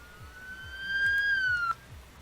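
An ambulance siren in the Emergency 4 emergency-services game, a single steady electronic tone that swells, slides slightly downward and cuts off abruptly, over a low pulsing engine hum.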